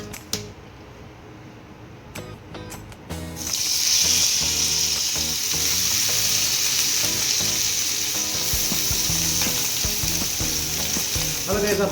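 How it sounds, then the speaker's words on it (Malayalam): Banana-leaf-wrapped roasted kurichi fish dropped into hot coconut oil on a tawa, a few clatters then a loud, steady close sizzle that swells and holds for the rest. "നമ്മുടെ വാഴയിൽ പൊള്ളിച്ച മീൻ നമുക്കൊന്ന് തവയിലേക്ക് ചൂടായ എണ്ണയിലേക്ക് ഇടാം."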